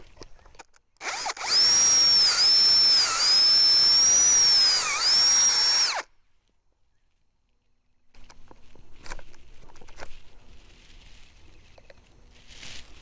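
A power drill with a 1/4 inch bit bores into wood for a muscadine trellis, running loud and steady for about five seconds with slight speed dips, then stops; faint shuffling and handling noises follow.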